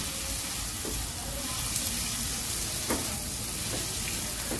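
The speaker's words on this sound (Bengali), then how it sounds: "টমেটো আর হয়েছে ডিমটার সাথে ভালো করে নাড়াচাড়া করে নেবেন একটু।" Tomato and egg stir-frying in a pan, a steady close sizzle with occasional soft scrapes of a spatula stirring the mix, no talking.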